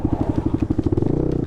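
A Jawa 42 Bobber motorcycle idles close by in a quick, even thump, and the beat shifts and smooths out as it is put into gear.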